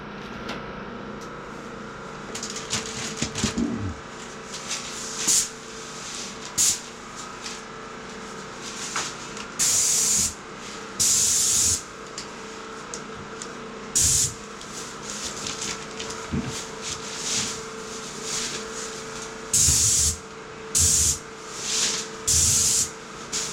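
A paint sprayer hisses in repeated short bursts while coating a kitchen cabinet during a DIY refinishing job, each pass a loud steady spray separated by brief pauses, over a constant low hum.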